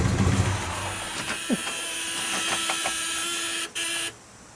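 A running engine of a 1970 Oldsmobile 442 W-30 tribute winds down as the ignition key is turned off, leaving a lingering steady hum, with a brief click near the end.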